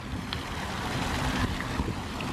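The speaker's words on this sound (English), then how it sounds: "This is such a pretty waterfall." A huge waterfall beside a quiet cottage garden gives off a steady, broad rushing roar of falling water with some wind noise, continuous and fairly loud throughout.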